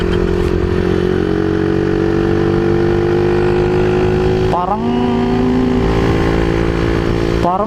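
A motorcycle engine with a freshly repaired carburetor idles loudly and close up, running continuously and evenly, with a couple of brief revs lifting its pitch.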